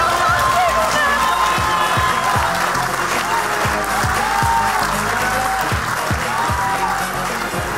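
A large studio audience applauds and cheers steadily throughout, dense clapping with occasional whoops, loud and close, with music running under the crowd noise.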